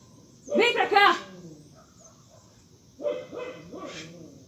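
Pet dog at home letting out two short bursts of barking and howling-like yelps, close and moderately loud, separated by a pause, with no talking.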